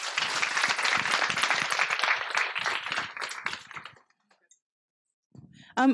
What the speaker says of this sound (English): give her one more round of applause